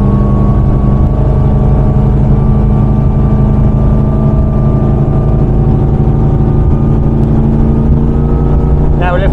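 A Donzi 22ZX speedboat accelerates on the water with a loud, steady roar of its engine. The heavy drone runs close and continuous, with rushing wind and water mixed in.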